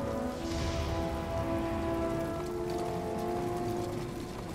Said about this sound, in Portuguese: A chuva também está muito bem feita.